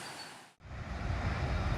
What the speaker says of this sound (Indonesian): itu dia sudah terlihat lokomotif diesel pelangsir lori kosongan